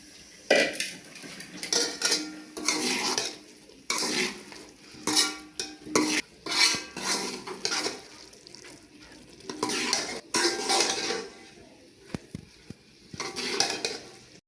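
Boiled lentils go into a cooking pan and are stirred with a spoon, giving repeated scraping and clinking strokes against metal in uneven bursts over a soft sizzle, close and fairly loud.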